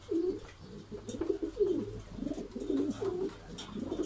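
Homing pigeons cooing in repeated soft, throaty phrases, close by and steady, with faint background noise.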